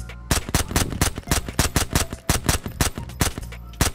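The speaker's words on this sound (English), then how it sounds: "I'm shooting at him." Rapid automatic gunfire in a multiplayer raid shooter game, a close, loud burst of evenly spaced shots over about four seconds with only brief gaps, no talk over it.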